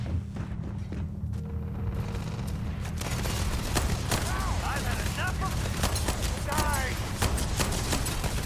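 Rapid bursts of gunfire from the space exploration video game Starfield, loud and layered over a steady low game soundtrack, with a few brief whooshing effects partway through and no talking.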